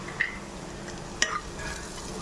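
Drumstick leaf fry being stirred in a pan, with a steady low sizzle and two sharp scraping clinks of a spoon against the pan, no talking.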